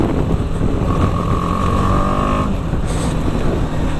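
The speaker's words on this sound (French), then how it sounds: "C'est ce bruit moteur là qui me dérange un petit peu, ce côté rock qui apparaît quand j'accélère à fond" A BMW G310 GS motorcycle engine revs as the rider accelerates hard, its note rising and falling steadily under heavy wind rush, close and loud.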